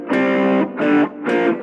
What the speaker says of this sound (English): can add a bit of distortion for more old school ones like this